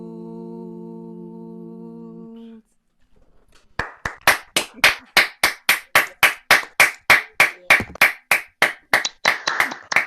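Audience at a shanty festival breaks into steady, loud rhythmic clapping after a song ends, sharp regular claps close by following a held sung note and a short pause.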